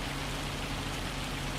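Hail falls in Farming Simulator 25 as a dense, steady hiss of pattering impacts, even and unbroken throughout, with no voices over it.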